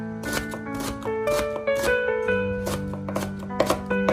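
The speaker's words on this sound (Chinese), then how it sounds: "再把小米椒给它切成小圈" Knife chopping bird's eye chilies into small rings on a cutting board, a quick run of crisp, evenly spaced taps close up.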